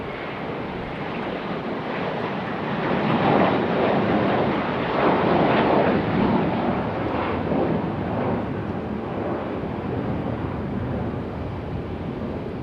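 An American Airlines A321 airliner moves at Raleigh-Durham airport, a broad, steady roar of jet engines that swells in the middle and eases off, heavily mixed with wind buffeting the microphone.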